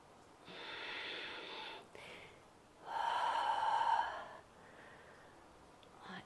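Heavy, audible breaths during a yoga squat flow: a long exhale, a short intake, then another strong forceful exhale, each breath loud and close with no talking over it.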